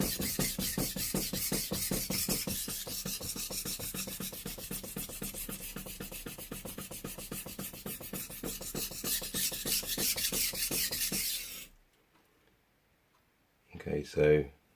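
A kitchen knife is stroked back and forth across a Japanese whetstone in a quick, regular rasping rhythm that runs steadily and fairly close, then stops; after a short silence a brief scrape returns.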